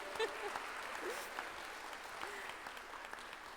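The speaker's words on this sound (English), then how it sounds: "And now, okay, you can applaud." Faint audience clapping at a graduation ceremony sits under a thin, distant room sound, with a few brief vocal sounds above it.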